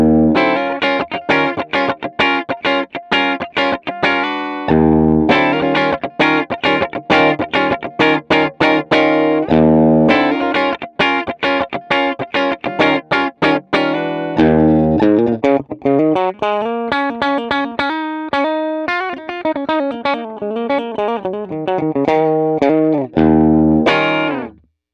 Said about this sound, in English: That was just with the 59 Bassman, no effects whatsoever.